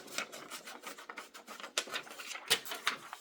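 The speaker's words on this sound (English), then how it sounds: "I'm just cutting away this excess" Excess DTF transfer film being cut away by hand, giving quiet, close rustling snips and rubbing scrapes in an irregular, faint sequence.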